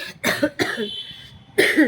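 Three harsh coughs from a person with a lingering cough, close and fairly loud, the first two in quick succession and a third after a brief pause.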